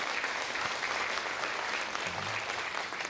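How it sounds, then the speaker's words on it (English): Audience applause fills a symposium hall on brain education, a steady, dense wash of clapping that holds at an even level throughout without a break. "I'd like to give another big round of applause to Professor Doraiswamy"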